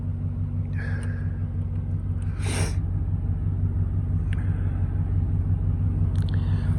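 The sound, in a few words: 2013 Chevy Silverado 1500 engine running after new spark plugs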